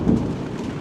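A short, deep rumble of thunder rolls through during a gathering storm with lightning flashing, brief and fairly loud with no voices.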